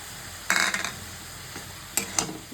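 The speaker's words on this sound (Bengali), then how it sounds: "ভালো করে মিক্স করে নেবো।" Spices and ginger paste get stirred into chola greens in a metal pan, with a few sharp scraping clicks of the spoon against the pot in two short bursts over a soft, low background hiss.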